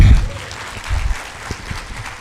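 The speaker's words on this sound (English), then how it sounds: "Can we clap for that?" Applause from an audience at an academic ceremony marking Rwanda–Sweden research cooperation, with scattered hand claps at moderate distance, a louder burst at the start and then a thinner, uneven patter that tapers off.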